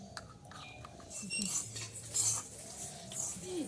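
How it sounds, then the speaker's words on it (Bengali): Ceramic cups clink and rattle against each other as they are washed, a string of light, close chinks and knocks with a little water movement underneath. "কাপগুলো দেখি কাপগুলো এই যে ধুয়ে নি"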